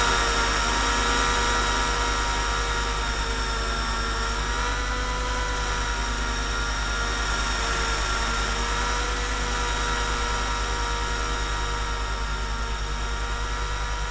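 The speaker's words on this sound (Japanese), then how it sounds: "これは、ヘリです。" A continuous radio-controlled helicopter drone from a flight simulator game, with a steady whine and low rotor thrum, unchanging and even throughout with no talking.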